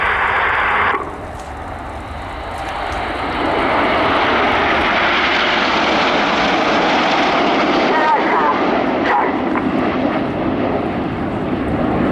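RAF Red Arrows display jets perform at an air show, a loud broad jet roar swelling and sustained overhead after a brief lull, while a commentator speaks over a public address system.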